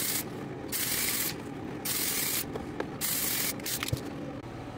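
Small cut-out parts for a steampunk arcade machine are sanded flat to remove the draft angle, with repeated long, raspy strokes in a steady back-and-forth rhythm, close and alone.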